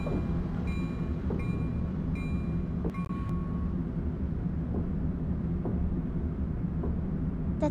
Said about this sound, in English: Let's keep this train moving forward.